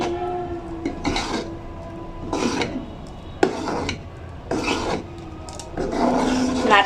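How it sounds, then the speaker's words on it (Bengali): A spoon scrapes and stirs thick carrot rice pudding (payesh) in a pot in about six separate rasping strokes with short pauses between them, alone and close by. "তাই আমি ভালোভাবে নেড়ে নেড়ে আর একটু দুধ শুকিয়ে নিচ্ছি।"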